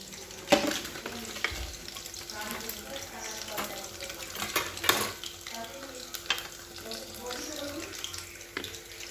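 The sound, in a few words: chicken pakoras frying in oil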